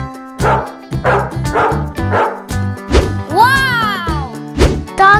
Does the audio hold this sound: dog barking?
yes